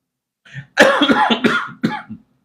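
A preacher coughs up close during a sermon, a short throaty burst followed by a few harsh coughs and a final smaller one.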